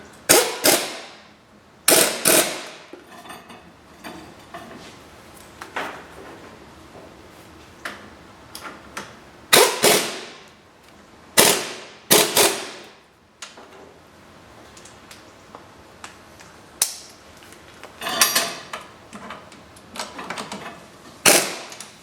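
Air impact gun on its lowest setting during front strut and lower control arm work on a Chevy HHR: short, sharp rattling bursts, close and loud, repeated irregularly between quiet gaps, with no talk.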